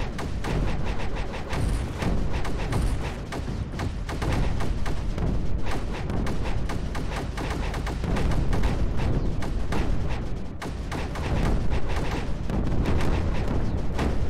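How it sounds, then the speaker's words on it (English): Explosions in the strategy video game Creeper World 4 go off in a relentless, dense barrage of booms and cracking blasts, loud and continuous for about fourteen seconds with no talking. "Listen to all those beautiful explosions."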